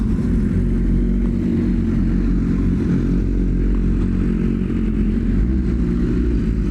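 A 2026 BMW M 1000 RR sport motorcycle engine running loud and close, a continuous rough throbbing rumble with a slight rise in revs, no voices.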